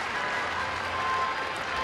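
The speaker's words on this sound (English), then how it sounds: "Everybody at least sitting behind home plate that could see that baseball scored away just suddenly started yelling, "Go!"" A baseball crowd seated behind home plate at a Texas Rangers game against Oakland erupts in a steady wash of yelling and cheering, loud and unbroken throughout with no clear single voice.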